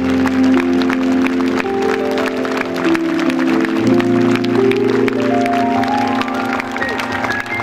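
Concert crowd in Barentin clapping for the singer's parents, a sustained round of applause beneath steady sustained musical tones, with sharper claps standing out near the front.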